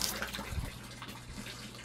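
Water pouring steadily into an aquaponic fish tank in a shed, a continuous close splashing gush that stays fairly loud and even throughout, with no voices over it.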